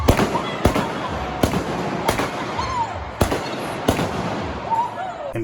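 Explosions at a Brainiac Live stage show go off as sharp, loud bangs, roughly six of them at irregular intervals a second or less apart, each followed by a brief reverberant tail in a large hall.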